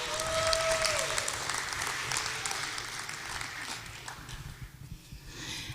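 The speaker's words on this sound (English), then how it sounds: "Give them a round of applause" A conference audience applauds a panel called onto stage, with clapping that swells loudest early on and then gradually thins and fades toward the end, with a few scattered voices.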